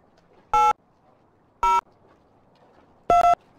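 Telephone dialing tones in the X-Files video game: three short, loud electronic tone bursts spaced about a second apart, alone over a quiet background.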